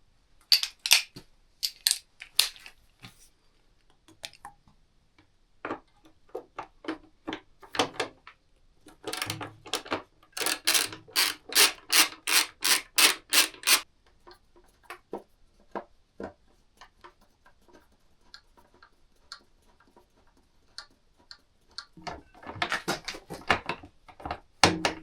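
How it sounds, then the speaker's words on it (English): A 10mm socket wrench with an extension works on the front cowl bolts of a Honda XRV 750 motorcycle, making bursts of rapid ratcheting clicks separated by quiet pauses and small metallic handling sounds. "You need then a 10mm socket, and I'm gonna get an extension."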